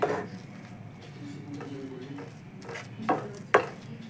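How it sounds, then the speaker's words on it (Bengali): A green pea kochuri filling is stirred and dried in a pan, giving soft scraping and gentle patter, then two sharp utensil knocks near the end. "কড়াইশুঁটির পুরটা এইভাবে নেড়ে নেড়ে শুকোতে হবে"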